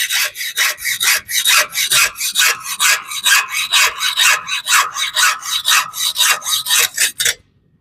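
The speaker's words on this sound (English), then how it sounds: "And I'm just going to saw" A hand saw cuts through braided stainless steel Teflon hose clamped in a vise, in about twenty even, loud rasping back-and-forth strokes at a brisk rhythm, close by, then stopping abruptly, with no talking.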